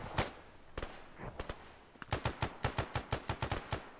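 Gunfire and bombing in a military video game with close air support, sharp separate shots early, then a fast run of evenly spaced loud bursts, close and alone.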